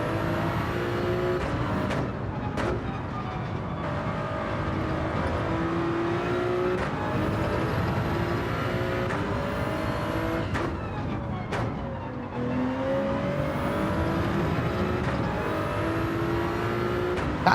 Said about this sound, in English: That Corvette's quick.